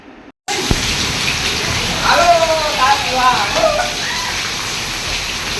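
Heavy rain arrives with strong wind, a loud, continuous broadband hiss and patter that swells slightly midway, with faint voices underneath.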